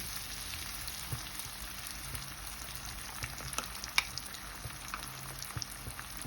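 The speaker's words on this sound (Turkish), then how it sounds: "Kıymam, soğanım, e, domatesim, sarımsağım iyice bir kavurduktan sonra şimdi yumurtamı ilave ediyorum" Egg poured over sautéed mince, onion, tomato and garlic frying in a pan: a quiet, steady sizzle with scattered small crackles and pops throughout, no voices.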